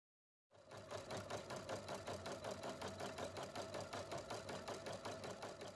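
A Husqvarna Viking Platinum Plus sewing machine embroiders letters with a fast, steady needle rhythm. The mechanical stitching clatters evenly and continuously at close range, with no talk over it.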